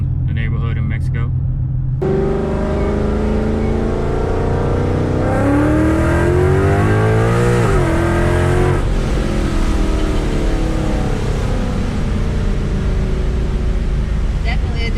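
A 2017 Ford Mustang with a Circle D 4C torque converter driving through a neighborhood in Mexico, loud steady engine drone rising and falling through gears close by.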